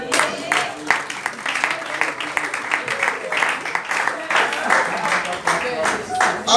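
A church congregation applauds in steady, dense clapping that carries through the whole stretch, loud and close, while voices shout and talk over it.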